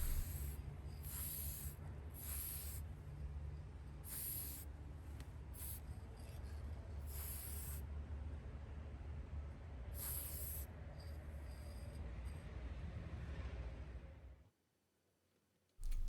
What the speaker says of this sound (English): sprayed varnish over the tumbler to seal the inks